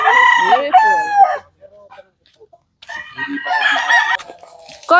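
Roosters crow loudly and close on a Pangasinan game farm, two long drawn-out crows separated by a short quiet gap, with faint clucking between them.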